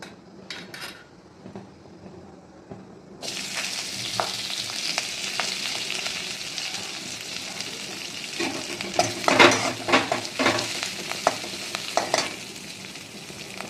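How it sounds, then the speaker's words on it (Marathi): After a quiet start, cumin, mustard seeds and turmeric hit hot oil with a sudden loud sizzle, crackling and spattering with sharp pops and a few utensil clinks. "आता याला आपण फोडणी देणार आहोत। 2 चमचे तेल टाकले आहे, त्यामध्ये जिरे, मोहरी"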